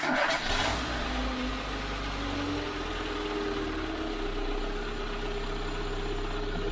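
A Renault Clio 1.2 16v cranks briefly and catches, then settles into a steady, fairly loud idle close by.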